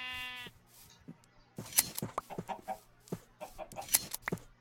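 Minecraft chickens cluck in short, scattered bursts near a village, the calls irregular and fairly close, following a brief sustained tone at the start over a faint low hum.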